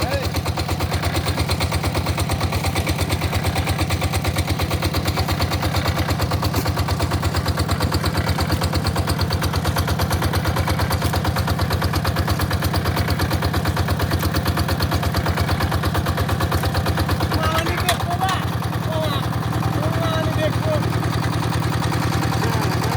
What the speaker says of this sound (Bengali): মেশিন আবার চালু হয়ে গেল।